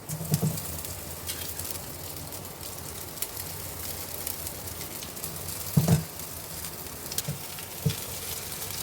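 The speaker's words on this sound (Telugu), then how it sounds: "ఈ నూడిల్స్ వేసుకొని కలపాలి కొంచెం" Egg noodles tossed into a hot frying pan and stirred for street-style egg noodles, giving a steady soft sizzle with a few brief scraping stir clicks, close and alone without talk.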